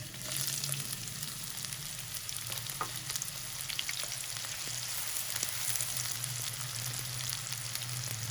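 100 grams of chopped onions fry in hot oil for a minced-meat and peas dish, a steady dense sizzle with faint stirring scrapes, close and continuous, with no one speaking.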